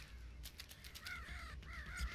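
A crow caws in the video game Family Guy: Back to the Multiverse, with two or three harsh, raspy calls in quick succession, fairly faint against a soft background.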